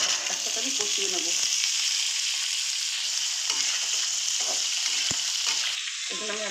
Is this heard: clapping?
no